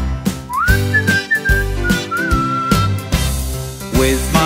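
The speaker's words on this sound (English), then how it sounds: "Whistle, whistle a happy song." A melodic whistled tune carries a happy song over a bouncy musical backing, the whistle steady and prominent for most of the stretch with a rising swoop near the end.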